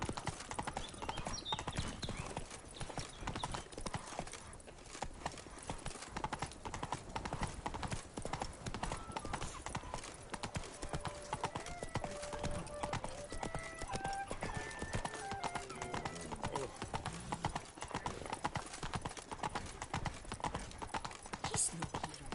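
Roach, the horse in The Witcher video game, gallops steadily with loud, continuous hoof clip-clops over a busy game soundscape, while voices and music carry on alongside.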